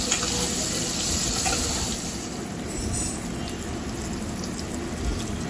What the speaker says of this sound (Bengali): এবার কেটে রাখা আলুগুলো একইভাবে ভেজে নিলাম